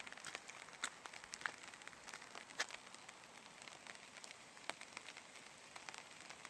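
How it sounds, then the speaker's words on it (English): Light rain begins falling at an abandoned rural railway station, a faint soft patter of scattered drops tapping surfaces in irregular ticks over a quiet hiss. "It starts raining."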